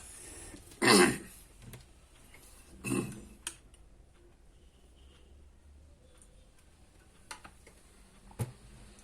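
A person clears their throat twice, a harsh rasp followed by a softer one, close and otherwise quiet apart from a few faint ticks.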